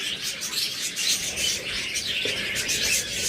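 Pet birds for sale as a pair, a splitino female and a blue male, chirp in quick high repeated tweets over a steady rasping background, close and moderately loud, no talking.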